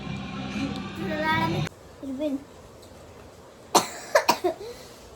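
A child coughs several times in a short cluster near the end, sharp and close, after a stretch of talking and a brief quiet pause.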